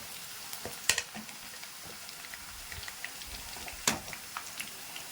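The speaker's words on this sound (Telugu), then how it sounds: "తురుము పెట్టుకున్న క్యారెట్ వేసేద్దాం" Grated carrot frying in a pan for a simple carrot stir-fry, a soft steady sizzle with a few sharper crackles and clinks, no talking.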